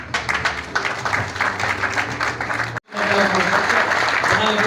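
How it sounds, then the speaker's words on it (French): Loud, dense applause from a large audience at an awards ceremony for partners and exhibitors, briefly dropping out near the middle before surging back just as strong. "On les applaudit très, très, très, très fort"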